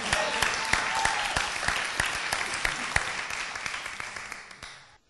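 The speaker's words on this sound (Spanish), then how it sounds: "Alguien dé un aplauso." A church congregation breaks into applause during a Spanish-language sermon, a dense wash of clapping with sharp individual claps standing out, sustained for several seconds before fading out at the end.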